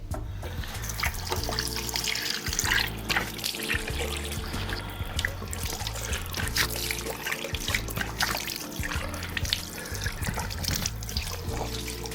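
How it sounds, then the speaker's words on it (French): Tap water runs steadily into a sink while foaming face cleanser is rinsed off, a continuous close splashing and trickling stream with no talk. "ce qui est bien surtout, c'est que ça se rince facilement"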